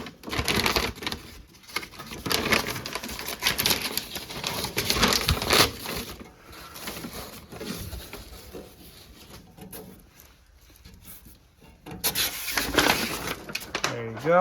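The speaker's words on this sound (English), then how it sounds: "Okay, let's unwrap it." Rustling and crinkling packaging as a Blackstone 22-inch tabletop griddle from Costco is unwrapped, steady close handling noise with tearing and crumpling bursts, and people talking at times over it.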